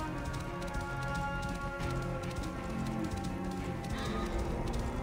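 Rhythmic clip-clop of horse hooves at a quick gallop in the video game Assassin's Creed Origins, steady and continuous over a constant background.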